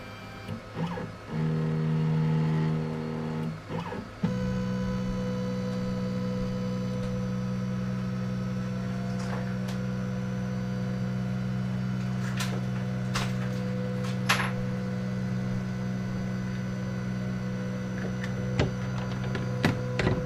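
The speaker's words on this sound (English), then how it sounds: "first thing we've got to do is home the machine to make sure that we have our XY" A CNC machine homes its axes, with steady whining stepper motor tones that change pitch as each axis moves, then a sustained hum with occasional clicks.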